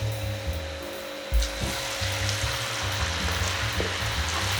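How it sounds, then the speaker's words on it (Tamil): Potato fries bubble in hot oil, a steady close frying hiss with a sharp burst as pieces drop in, plus light rattles and low rumbling from the stove. "இப்போ இது எண்ணெயில் நம்ம பொரிச்சு எடுத்துக்கலாம்"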